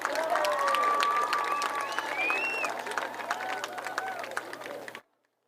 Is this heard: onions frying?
no